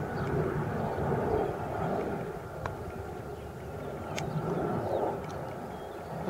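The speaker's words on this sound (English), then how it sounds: "That is one fast jet." A fighter jet coming in to land roars as a steady, broad engine rumble heard from a distance, sustained without break and gently swelling and fading, with no talk over it.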